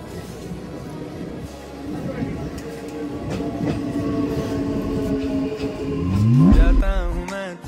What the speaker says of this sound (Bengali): তো তারপর গাইস ফাইনালি আমাদের ট্রেন প্ল্যাটফর্মে আসে।